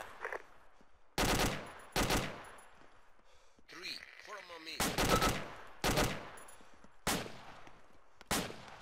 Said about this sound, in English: Someone's getting shot at on the roof behind us.